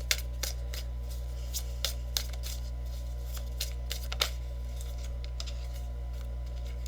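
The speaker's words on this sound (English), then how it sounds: "Two cards flipped out." Tarot cards are shuffled and flipped out, a series of soft, crisp card snaps and flicks at irregular intervals over a steady low hum, close and faint, with no talking.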